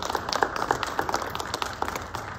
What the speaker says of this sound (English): If we just give them a round of applause for their time.